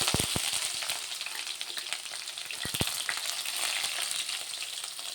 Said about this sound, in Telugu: ఉల్లిగడ్డ ఫ్రై అవుతుంది